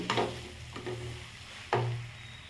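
Torn chapati pieces being stirred and mixed in a pan for kothu chapati, a few soft scraping strokes over a gentle sizzle, with one firmer scrape near the end.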